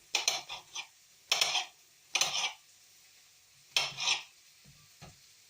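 Onions and garlic get stirred in a pan on low heat for chilli con carne, a few separate scraping, sizzling strokes with quiet pauses between them, close by and without talk.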